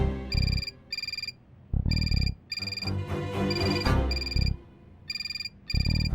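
An office telephone rings in a women's police station, repeating bursts of electronic ringing in a steady pattern, loud and close, with muffled background activity between rings.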